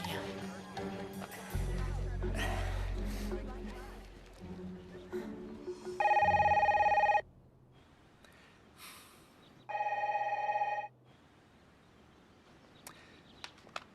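A telephone rings twice during a call in a French romantic film, each time as a loud, steady electronic tone lasting about a second, with quiet gaps between the rings and noisy background sound beforehand.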